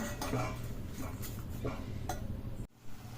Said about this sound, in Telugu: కడిగి పెట్టుకున్న రైస్ వేసుకున్న తర్వాత దీన్ని బాగా కలుపుకోవాలి కొద్దిసేపు